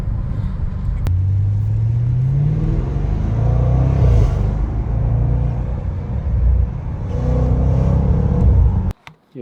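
Close, loud V8 engine growl from a car on a test drive, revving and accelerating in sustained surges for several seconds before cutting off abruptly.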